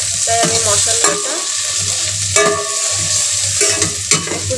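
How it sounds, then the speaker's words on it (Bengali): Onion, garlic and ginger paste stirred in hot oil inside a rice cooker, a steady loud sizzle with repeated scraping strokes of a spoon against the pot. "একটু নাড়াচাড়া করে নেব।"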